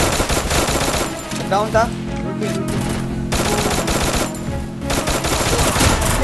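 Dense video game gunfire from Thompson and MP40 submachine guns, rapid bursts rattling almost continuously with brief gaps, loud and close, with a player's short remark in the middle.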